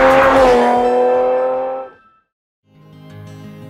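A loud, high-pitched 1988 Ferrari Testarossa 4.9-liter mid-engine flat-12 screams and revs, fades out briefly, then returns as a lower, smoother engine note.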